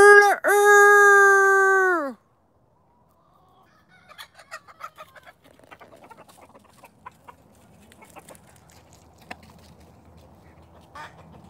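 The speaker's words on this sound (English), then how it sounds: "Nope, that was chicken." Chickens cluck in a caged yard. One loud drawn-out call opens the scene, then quieter scattered clucks and rustling follow at a moderate distance.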